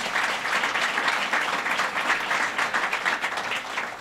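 Sustained applause from an audience at a hospital announcement event with the governor, a dense, steady clatter of many hands clapping alone throughout.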